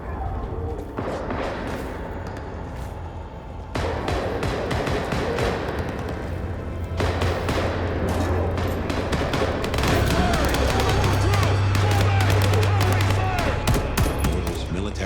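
Gunshots in the video game Vampire the Masquerade: Bloodlines 2 crackle as dense, rapid bursts of sharp reports with heavy thuds over a busy game soundscape that grows louder partway through, with some voices mixed in.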